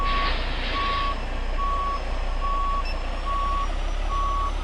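A truck's reverse alarm in American Truck Simulator beeps steadily, six evenly spaced tones over a constant low diesel engine rumble, with no talking.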